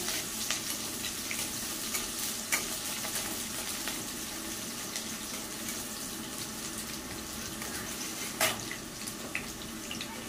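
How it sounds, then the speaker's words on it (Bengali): Chopped onion fries in a pan as it is stirred, a continuous soft sizzle with occasional scraping clicks from the spoon, fairly quiet and without speech. "পেঁয়াজটা দিয়ে একটু নাড়াচাড়া করে নেবো।"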